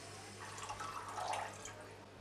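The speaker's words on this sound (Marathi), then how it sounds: "त्यामध्ये पाणी घालणार आहे," Water poured into a pot holding sugar in a home kitchen, a brief gurgling splash that swells midway and then fades, heard over a low steady hum with no talking.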